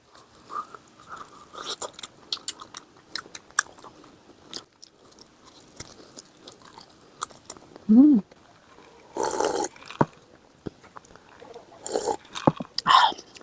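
Close, wet chewing and crunching bites of spicy pork gimbap and Kyochon fried chicken in irregular bursts, with a few louder mouth sounds and faint vocal noises between them.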